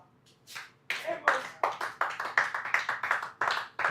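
Claps ring out one by one at a cricket match as a batsman walks back to the dressing room, a loose, fairly close pattern of sharp handclaps that builds from a couple of early strikes into a steady run.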